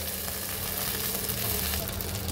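Potatoes and flat beans lightly frying in a pan while cooking a koi fish curry: a dense, continuous sizzle, loud and close, with faint stirring scrapes mixed in.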